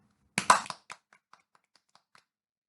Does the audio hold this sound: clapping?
yes